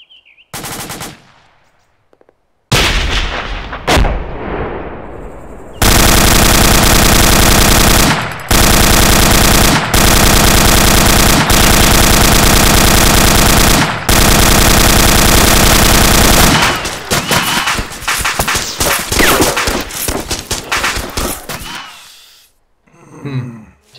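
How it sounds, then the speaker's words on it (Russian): Gunfire in ArmA 2 with the ACE mod: a few scattered shots, then long sustained bursts of loud automatic machine-gun fire close by, with short pauses, trailing into sporadic shots and heavy breathing near the end. "Стрелять сейчас буду."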